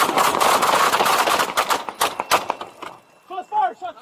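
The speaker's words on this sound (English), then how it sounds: "Shots fired. Shots fired." Rapid burst of gunshots during a police traffic stop, loud sharp cracks in quick succession followed by a few scattered shots, then shouting voices.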